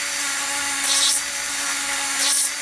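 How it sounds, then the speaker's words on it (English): A power drill bores entry holes in the plastic of an X-Wing model, a steady high whine with two brief louder bursts as the bit bites, heard close up and alone. "drilling the entry hole for the wiring."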